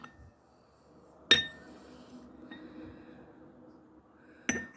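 Two sharp porcelain clinks from a Turkish coffee cup being opened, one early and one at the end, with faint quiet handling in between in an otherwise still room.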